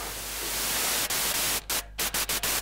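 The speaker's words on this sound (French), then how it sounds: "mais vous avez aussi un générateur de bruit." A Behringer Model D analog synthesizer's noise generator puts out a steady hiss of white noise, cut off abruptly several times in a quick, stuttering series of short bursts toward the end.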